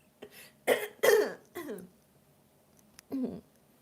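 A few short, harsh coughs and throat-clearing bursts close by, separated by brief pauses, with one last rough clear near the end.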